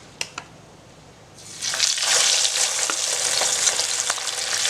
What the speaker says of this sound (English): My oil is hot, and I'm going to start frying my fish.